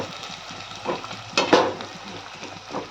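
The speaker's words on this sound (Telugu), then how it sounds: "ఈ వేడైన ఆయిల్లోకి ఈ కాకరకాయలను వేసుకొని మంచి డీప్ ఫ్రై చేసేసుకున్నాము" Pieces of bitter gourd deep fry in hot oil with a continuous sizzle and bubbling, broken by a few sharper bursts of crackling spatter partway through.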